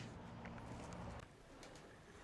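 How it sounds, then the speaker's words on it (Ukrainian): A pigeon coos softly in low, repeated calls, fairly close, with a quiet background and no talking. "Прийшов голуб. Ось прийшов."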